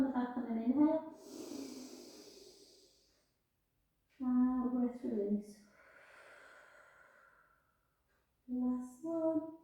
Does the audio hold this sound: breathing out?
yes